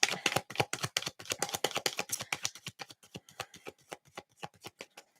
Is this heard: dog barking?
no